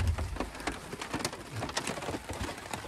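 Rain patters on a truck at a camp spot during heavy rain and high winds, a soft steady wash of drops with scattered sharper taps on the surface, fairly quiet and continuous with no voices.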